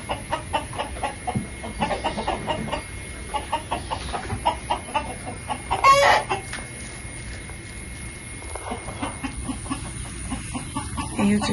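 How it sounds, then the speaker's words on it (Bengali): Kadaknath chickens cluck steadily on a farm, repeated soft clucks in a loose rhythm at moderate distance, with a brief louder squawk partway through. "এই সব হচ্ছে করকনাথ মুরগি।"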